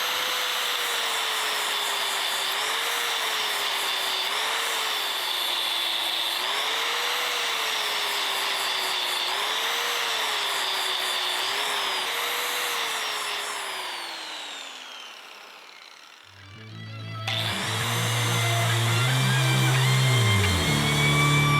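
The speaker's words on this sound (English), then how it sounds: "Now I'm going to clamp it in the vise and grind this down" A power grinder works a cracked exhaust manifold clamped in a vise, a loud steady whine with wavering pitch as it bites the metal, dropping away briefly before spinning back up with a rattling start.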